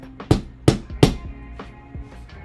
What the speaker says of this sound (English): Little hammer here, and you tap it in place.